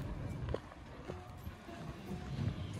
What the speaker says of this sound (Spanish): ignoren el caballo comiendo